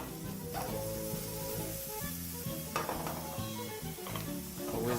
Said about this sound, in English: into our hot pan, we're just going to add a bit of the white onions